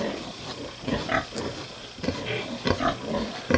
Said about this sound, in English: Very cute little piglets.